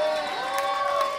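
A live comedy roast-battle crowd cheers and whoops at once, a mix of raised voices and yells over a murmuring room, fairly distant and moderate in level.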